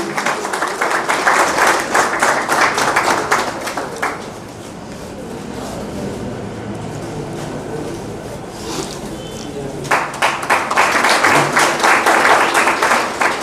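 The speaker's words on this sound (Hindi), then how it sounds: "और आप सभी तालियां आपकी बजती रहनी चाहिए" An audience at a Republic Day honours ceremony in Hisar division claps in a loud, sustained burst, eases to a quieter murmur in the middle, then breaks into strong applause again.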